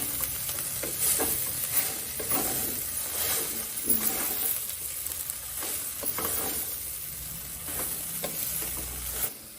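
Chopped cabbage with coriander and mint being stirred in a frying pan, a steady loud sizzle broken by repeated scraping sweeps of the spoon along the pan bottom.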